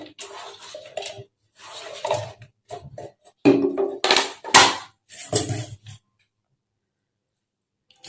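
Chopped banana and soaked oats are tipped into a mixie jar, with a series of clattering knocks and clinks from the jar, close and bursty, before a short stretch of quiet.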